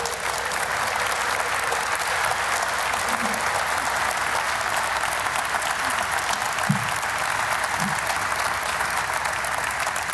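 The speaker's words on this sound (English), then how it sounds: "Please join me in welcoming the Mayor of the great city of Newark, Raj J. Baraka." Sustained audience applause at a port terminal ribbon-cutting ceremony as a city mayor is welcomed, dense steady clapping throughout with a few louder individual claps.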